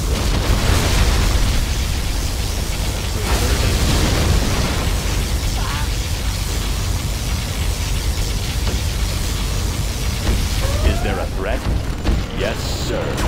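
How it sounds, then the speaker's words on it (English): A particle cannon fires in Command & Conquer: Generals, a loud, sustained roaring blast filling the scene, a heavy continuous explosion-like rumble with crackling bursts that eases slightly near the end. "Warning, particle cannon activated."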